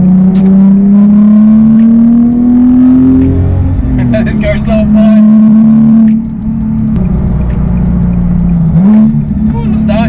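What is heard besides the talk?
Nissan 370Z Nismo engine revving and downshifting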